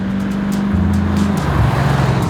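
A Cadillac-powered 1928 Ford hot rod pickup driving, its loud engine a deep steady rumble with pitch shifting down as it changes speed, close and continuous.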